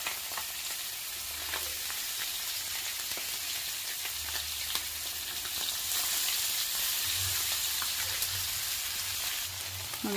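Mackerel fish sizzles and crackles steadily in a hot frying pan, a continuous close frying hiss with occasional spatters and soft stirring or turning noises, no talking.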